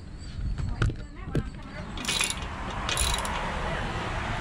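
Bolts being tightened while a Haul-Master car dolly mover is assembled: a few sharp metallic clicks and ratchet-like clanks, close by, over steady background noise.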